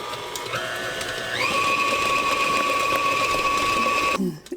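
Electric stand mixer with a scraper blade beating thick homemade pumpkin bread batter, a steady motor whine that steps up in pitch as the speed rises, then cuts off abruptly near the end.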